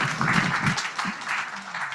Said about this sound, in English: please give big a round of applause for our speakers and also our moderator for this panel discussion